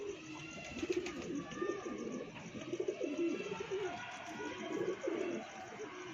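Pigeons coo close by in a repeated series of soft, throaty, rhythmic calls over a continuous low background hum.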